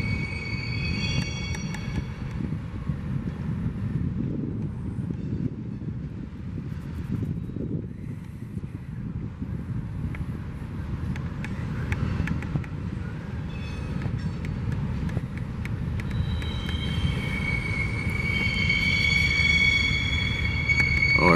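A rail car rolls down the hump at the BNSF yard in Pasco, Washington, a steady low rumble with wind noise that builds, and sharp metallic wheel squeals rising toward the end.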